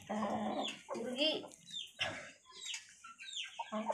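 A silky hen clucks repeatedly nearby in short, uneven bursts, with some fowl calls overlapping and a little background noise.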